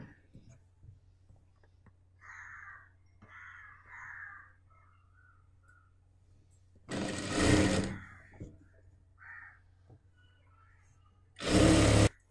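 A sewing machine stitches a folded lining hem on a churidar in two loud bursts, one about a second long and a shorter one near the end, with quiet gaps and faint low voice sounds between.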